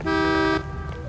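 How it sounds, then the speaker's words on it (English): A car horn sounds one long, steady toot for about half a second in the LA Noire video game, loud and close, with faint background noise after it. "What are you honking at?"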